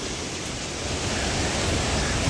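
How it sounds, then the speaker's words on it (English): Creek water rushing hard along a desert trail in Arizona, in a draw that is usually dry; a steady, close, broadband roar of flowing water continues without a break and no voices are heard. "Water's running hard."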